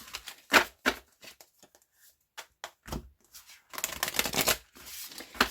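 Tarot cards are shuffled and drawn by hand, giving quick riffling bursts and soft slaps, with a longer run of dense shuffling near the end, close and fairly quiet.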